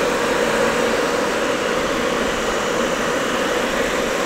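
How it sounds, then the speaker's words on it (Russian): A SALDA ventilation unit's turbine fan at maximum speed with the cover off, a constant steady whoosh and hum with no change across the stretch. "Так, турбина."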